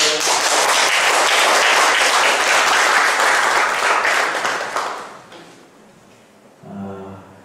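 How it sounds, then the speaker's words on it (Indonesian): An audience at a Buddhist talk breaks into loud, dense applause that holds steady for about five seconds, then thins and fades into near quiet, followed by a brief low knock. "Berikan aplaus yang meriah"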